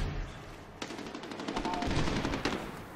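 Rapid automatic gunfire crackles in a Medal of Honor Warfighter multiplayer match, bursts overlapping from several directions with a sharp shot near the one-second mark and sustained fire building toward the end.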